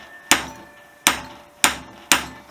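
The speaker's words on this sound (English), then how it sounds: "So I am now going to give it a go with this impact driver" Four sharp, loud hammer blows land at a steady pace on a manual impact driver set in a stuck screw on a Honda XL250S lower yoke during restoration, each ringing briefly before the next.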